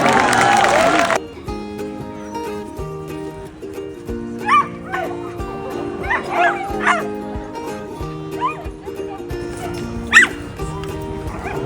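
Dogs yip and bark in short bursts at a dog show competition, the calls rising over a steady background of music, with a brief loud burst of noise at the very start.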